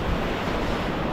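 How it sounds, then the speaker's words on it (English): Steady, loud wind buffeting and roaring at the beach in Saulkrasti, with a broad rushing noise like surf, continuous and unbroken for the short moment. "And it's very windy"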